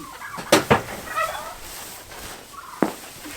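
A few short clucks and throaty calls from chickens close by, scattered irregularly with quiet gaps between them.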